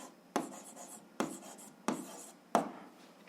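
Pen strokes on paper while an algebra exercise is worked out, four distinct scratchy writing bursts at a steady pace, close and fairly quiet, with no speech.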